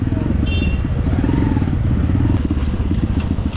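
Dirt bike ridden along a muddy trail at a park in Nepal, its engine droning steadily and close throughout with clattering and scraping from the rough ground.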